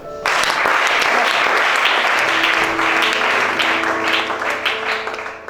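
A church congregation at a deliverance service bursts into loud, sustained applause that fills the room for several seconds, dense and continuous with a few voices and cheers mixed in.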